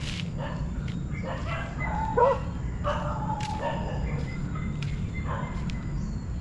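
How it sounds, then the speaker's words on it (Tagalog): Several dogs bark and yip at a tourist spot in La Union, Philippines, with scattered moderate barks at some distance over a low background hum. "May entrance, may aso guys."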